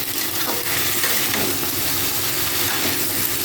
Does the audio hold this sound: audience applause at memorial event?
no